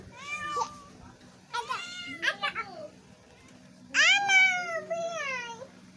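A cat meows several times up close, with drawn-out, rising and falling calls separated by short pauses in an otherwise quiet room.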